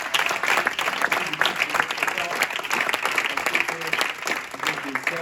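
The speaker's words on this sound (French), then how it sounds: "Si on peut applaudir nos orateurs," A conference audience applauds speakers at a round-table event, many hands clapping in a continuous dense wash with faint crowd murmur and a few voices mixed in.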